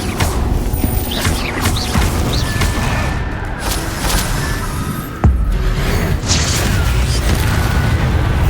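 Incendio fire spell cast in the Hogwarts Legacy video game, a dense stream of booming, crackling game effects with a sharp heavy thump midway, loud and continuous throughout.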